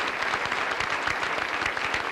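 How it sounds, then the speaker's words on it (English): An audience at a county college ceremony applauds the New Jersey National Guard Color Guard with even, continuous clapping at moderate volume, unbroken and without voices. "can we have a round of applause for the New Jersey National Guard Color Guard?"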